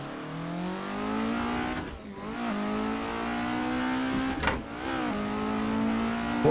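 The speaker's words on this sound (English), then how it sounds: "This car's probably a bit quiet for you guys," A retro race car engine in Assetto Corsa at Battenbergring drones at high revs, its pitch climbing through gears with brief dips at each shift, steady and moderately loud.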